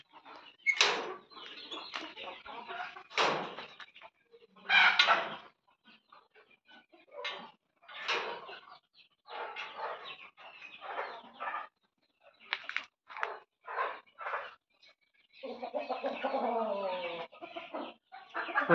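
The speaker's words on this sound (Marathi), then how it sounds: "कोंबड्या अंड्यावर बसलेल्या आहेत" Native desi hens brooding on clutches of about twenty eggs in a coop room give repeated close clucks in bursts separated by quiet gaps, with a longer, growling cluck near the end.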